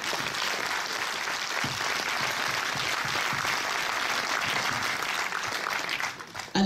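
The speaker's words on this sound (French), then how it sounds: "on peut les applaudir s'il vous plaît" Audience members at a local event in Marennes break into sustained, dense applause that holds steady for several seconds before tapering off and ending with a sudden knock.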